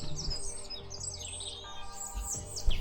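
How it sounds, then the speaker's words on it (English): Many birds chirp and call outdoors, with overlapping quick tweets and short trilling phrases at moderate distance over a low background rumble, and no one speaking. "Oh, there's the birds. Just so many of them."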